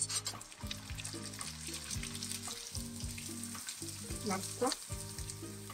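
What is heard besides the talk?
papad frying in hot oil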